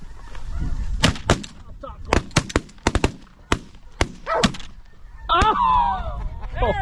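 Shotgun blasts during a goose hunt, several sharp loud reports in quick pairs and singles, close by, mixed with goose honking, excited shouting and a burst of loud honking near the end.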